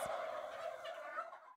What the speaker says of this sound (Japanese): 大村さんは七面鳥農家を続けると決意しています